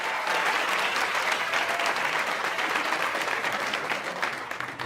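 Steady, loud audience applause for French comedian Waly Dia fills the room, dense clapping sustained for about five seconds before easing slightly at the end.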